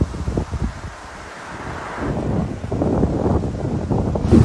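Strong crosswind gusting against a microphone on an uphill desert road in China during a bike ride, a steady roar that swells and buffets louder after the first couple of seconds, with no talking.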